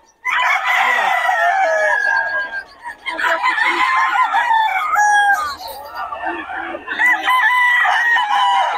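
Several rooster stags crow loudly and close by, their long calls overlapping almost without pause, with clucking and a voice faintly beneath.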